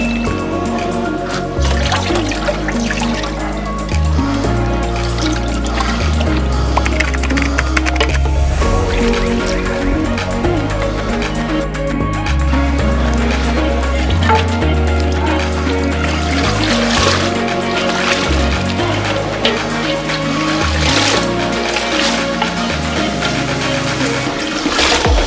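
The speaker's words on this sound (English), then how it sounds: "Dip it inside the boiling water." Batik cloth dipped and swirled in boiling water to lift off the wax, giving continuous close bubbling, sloshing and splashing with a steady rolling boil underneath.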